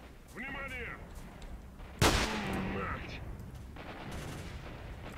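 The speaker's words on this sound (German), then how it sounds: "Auf was schießen die denn bitteschön?" Gunfire in the video game S.T.A.L.K.E.R. Shadow of Chernobyl: one sharp, loud shot cracks out and rings off. Some softer, more distant shots follow, and a player's voice is heard early on.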